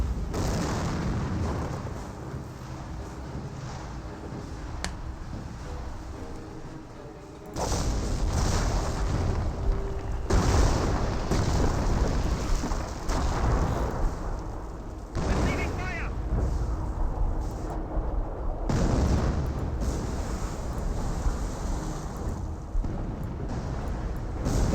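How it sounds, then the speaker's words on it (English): Hummel self-propelled artillery in a Company of Heroes match fires heavy rounds, deep booms and distant blasts rolling through a continuous battle din, with a commentator talking over much of it. "the Hummel start raging, throw some rounds in as well"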